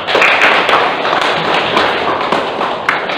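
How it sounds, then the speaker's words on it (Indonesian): Classroom audience applause for a student group that has just finished presenting its discussion results, a dense, steady wash of many hands clapping at close range for several seconds with no talk over it. "Terima kasih, berikan tepuk tangan."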